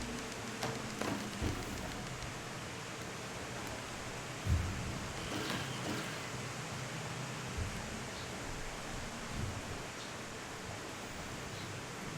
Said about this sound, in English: it's raining hard outside